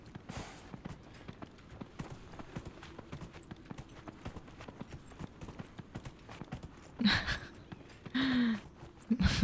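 Horse hooves clip-clop in a quick, steady rhythm as a character rides through the Dragon Age: Inquisition video game, with a couple of brief louder gusts or snorts near the end and no speech.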